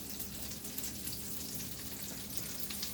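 Food sizzles steadily in frying pans, a soft continuous crackle and hiss heard up close and alone, with no talking.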